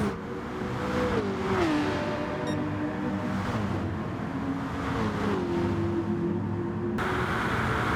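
Race car engines in Gran Turismo Sport during a Nations Cup online race. Loud sustained engine whine runs throughout, its pitch stepping down and climbing again through gear shifts, with no talk.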